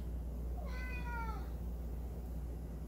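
A single clear cat meow, close and mid-loud, over a steady low background hum.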